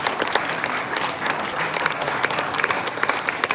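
Audience applause at an international conference on land and development, steady dense clapping from a seated crowd throughout, fairly loud with no speech over it.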